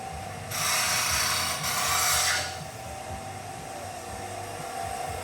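A Milwaukee power screwdriver whirs for about two seconds while backing off a cap on a Corvette build, a close, loud motor buzz with a brief dip mid-run over a steady low background hum.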